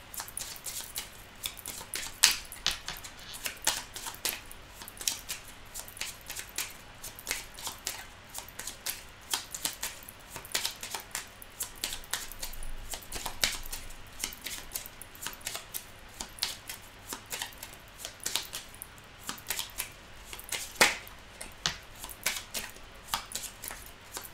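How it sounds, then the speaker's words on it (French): Tarot cards being shuffled during a reading, a steady run of close, crisp papery flicks and riffles with dense irregular clicks throughout, no talking over it. "Donc, je vais mélanger les cartes."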